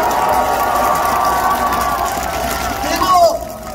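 A crowd at a political protest rally in Busan claps loudly and steadily, producing a dense wash of applause, with a voice amplified over it.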